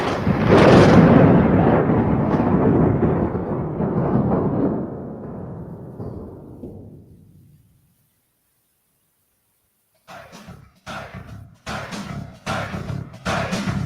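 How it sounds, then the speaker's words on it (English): A long, loud roll of thunder rumbles and slowly fades to silence. A few seconds later, short bursts of other sound follow. "Love that thunder."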